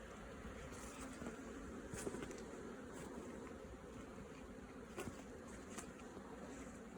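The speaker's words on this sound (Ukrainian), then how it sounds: "Ось так бджола облітується." Dense, steady buzzing of many honeybees on a winter cleansing flight, continuous and fairly close, with a few brief louder swells as bees pass near.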